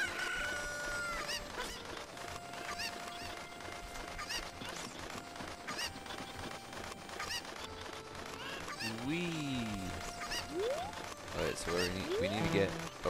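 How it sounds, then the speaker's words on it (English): Chickens in Zelda: Ocarina of Time clucking and squawking in short, repeated bursts over game background sounds, with sharper rising cries near the end; a person talks intermittently underneath. "another chicken"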